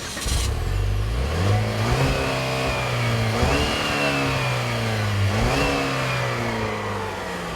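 A 2014 Buick Regal GS accelerating from 0 to 60 mph, its engine revving up through rising pitches with two clear gear shifts, heard steadily and loud from inside the car with no talk.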